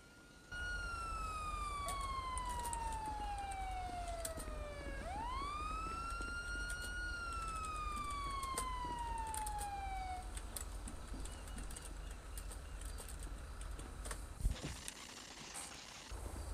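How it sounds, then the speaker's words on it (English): A wailing police siren sweeps down in pitch, dips, then rises and falls again, loud and steady over rumbling road noise, then cuts off. "can you hit my siren, bud?"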